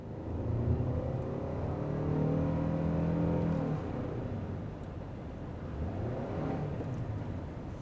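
A Toyota Sienna Platinum AWD hybrid minivan's gas engine drones and rises in pitch as it accelerates, steady interior rumble with shifting harmonic tones, moderately loud and continuous.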